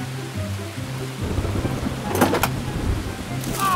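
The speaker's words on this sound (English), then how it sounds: "It's still raining heavily." Steady heavy rain pours throughout, with a sharp crack of thunder breaking through midway and a lower rumble near the end.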